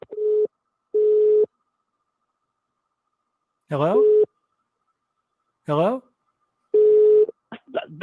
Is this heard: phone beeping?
yes